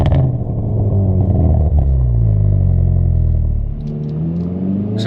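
A Hyundai i30N with a dual-clutch gearbox growls loudly and close by, its engine note dropping and then flaring back up in rev-matched blips as it shifts down, with a brief pop near the end.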